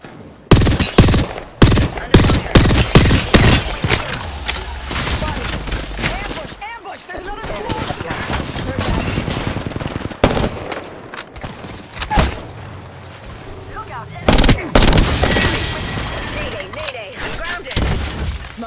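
Battle royale video game firefight: dense bursts of rapid gunfire crackle loudly in clusters at the start and again near the end, with sustained shooting and rumbling effects between them.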